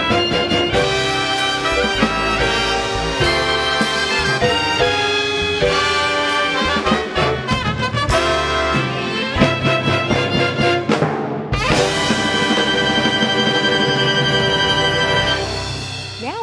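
Full live orchestra playing together, reeds, strings, brass and rhythm section in a loud, dense sustained passage with a brief break near the end before the ensemble swells again.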